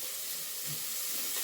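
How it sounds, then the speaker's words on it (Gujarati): Hot oil sizzling and hissing as a tempering (vaghar) is poured for kadhi, a steady bright frying crackle that holds evenly throughout with no talking. "કઢીનો વઘાર કરું"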